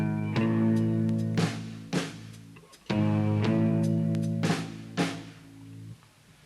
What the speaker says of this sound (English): the smallest interval or distance that you can have is a semitone or half step